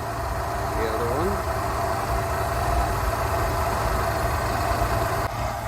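A warm Rolls-Royce Silver Shadow engine idles near 600 rpm during carburettor tuning, a steady low close-up hum with a faint mechanical tone riding on top.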